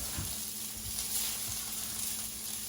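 Peppers sizzling steadily in a hot frying pan on medium-high heat for a sausage tomato ragu, a continuous close hiss with a few soft stirring bumps, no talking.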